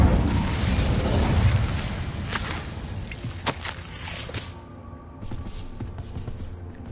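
An Incendio fire spell cast in Hogwarts Legacy: a loud whooshing roar of flame at the start, followed by a few sharp cracks and pops and fainter scattered impacts as it dies down.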